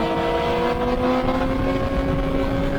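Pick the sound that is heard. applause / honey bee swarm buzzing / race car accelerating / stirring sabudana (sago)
race car accelerating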